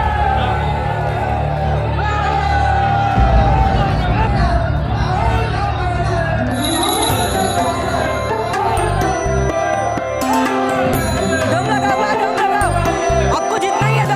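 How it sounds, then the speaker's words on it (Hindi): A large crowd fills the space with dense, loud babble of many overlapping voices and chatter, joined midway by a sustained tonal layer over the continuing noise. "इतनी भीड़।"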